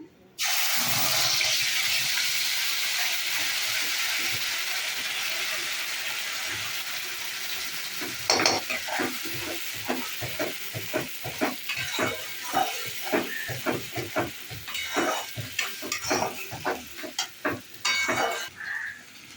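Onion and garlic paste goes into a hot pan with oil and spices such as cinnamon for a chicken curry. A steady loud sizzle is followed by irregular scraping and stirring clatter, with no talking.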